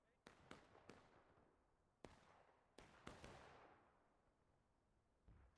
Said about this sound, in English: Ooh, nice Union artillery shot.